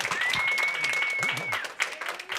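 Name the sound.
audience applause for speaker Larry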